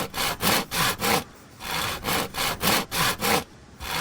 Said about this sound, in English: here we are filing the nails